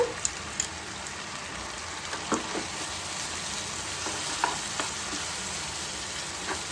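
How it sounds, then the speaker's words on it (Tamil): Onion and green chilli paste sautéing in a pan for a Jaffna-style chicken curry, a steady continuous sizzle broken by occasional scrapes and stirring taps. "அதையும் நல்லா வதக்கிக்கோங்க. அந்த வெங்காயம் பச்சை மிளகாய் வாடெல்லாம் போகட்டும், அது வரைக்கும் நல்லா வதக்கிக்கோங்க."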